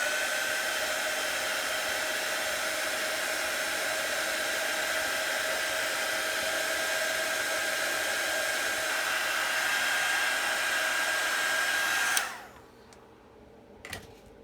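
A hair dryer blows a steady, close, continuous whoosh over a painted bird-on-a-branch craft piece for about twelve seconds, then switches off, leaving near silence and a small knock.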